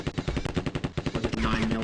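Rapid automatic bursts from an Uzi and an assault rifle firing 9mm rounds in the game Terminator Future Shock, close and loud, in quick repeated cracks with a brief pause midway.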